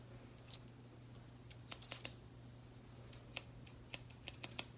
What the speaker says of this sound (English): I'm going to sit here and open them and shut them.